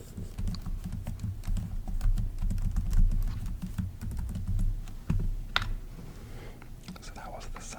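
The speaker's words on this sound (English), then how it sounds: "So that was the sound of my normal laptop keyboard" Fingers tap steadily on an ordinary laptop keyboard nearby, producing a quick, soft, continuous clatter of key clicks with a few sharper strokes, while low murmuring sits faintly underneath.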